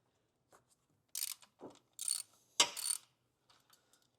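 A 12mm bolt and the charge pipe come out of a 2022+ Subaru WRX FA24 engine bay, a few scattered close metallic clicks, ratchet-like rattles and clanks separated by silence, quiet overall.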